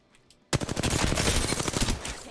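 In a battle royale video game, a quiet lull breaks into a sudden, loud burst of rapid automatic gunfire, with dense overlapping shots rattling on for nearly two seconds.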